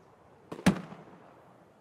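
A single sharp sniper shot cracks in Escape From Tarkov, a sudden loud report followed by a short fading echo in an otherwise quiet moment.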